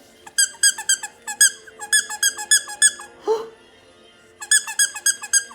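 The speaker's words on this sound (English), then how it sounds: "How do I hold this so that I can get to the squeak?" A squeaky dog toy squeezed for four-week-old Sheepadoodle puppies, loud close bursts of rapid rubbery squeaks in rhythmic groups, with a short pause and one brief low noise in the middle before the squeaking resumes.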